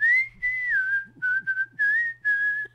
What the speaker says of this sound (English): stick to the whistling